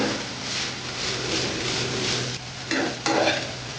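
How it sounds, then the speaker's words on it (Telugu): Ingredients fry in a kadai with a continuous close sizzle, broken near the end by a few scraping stirs of a spatula against the pan. "దీనిలో పచ్చివాసన పోయే వరకు మనం వేయించుకుంటే సరిపోతుంది."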